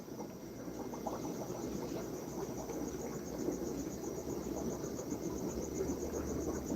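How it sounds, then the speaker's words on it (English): Crickets kept in a small cricket farm inside an aquatic pet store chirp in a dense, continuous high trill that never pauses, layered over a low steady hum, with no talking. "We got a little cricket farm going on here. They're chirping."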